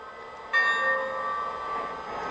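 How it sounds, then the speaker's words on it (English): A single bell strike from a Lionel Milwaukee Road S3 4-8-4 Northern model steam locomotive rings out sharply, its tone lingering and slowly fading over about two seconds, with no one talking. "If you want to just hit the bell once, you just tap the bell button on the Legacy remote like this."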